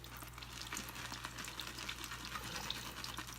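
Shaving brush churning CBL soap lather in a bowl after more water is added, a close, continuous wet crackling and swishing froth, steady throughout with no voices.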